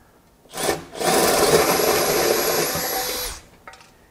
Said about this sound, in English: now we've drilled a hole through our sheet metal